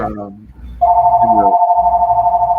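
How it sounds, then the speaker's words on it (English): A telephone rings in a limousine company office, a steady electronic ring tone starting partway through and continuing loudly after a voice is heard briefly. "guess that's your phone"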